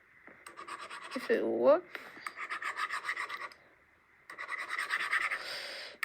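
Eraser rubbing out handwritten working on paper, repeated quick scratchy back-and-forth strokes in bursts with pauses between, and a person speaking briefly partway through.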